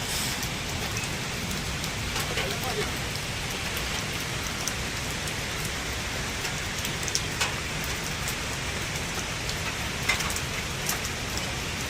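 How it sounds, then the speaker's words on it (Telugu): Steady rain pours in the Munnar forest, a dense, even hiss of drops on leaves and ground with a few louder nearby drips, close and continuous with no talk. "సో వర్షం అయితే మళ్ళీ స్టార్ట్ అయిపోయింది"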